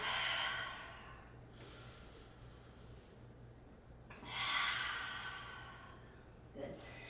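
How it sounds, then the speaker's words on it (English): Two long, breathy exhales out the mouth during a vinyasa yoga flow, close and soft, roughly four seconds apart with quiet breathing between. "Breathing in. Exhale out the mouth. Let go of some of that steam."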